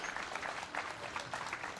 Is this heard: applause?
yes